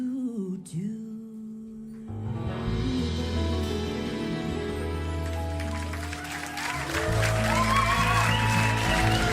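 Audience applause at a concert swells into a dense, sustained clapping that grows louder toward the end, mixed with music and crowd noise.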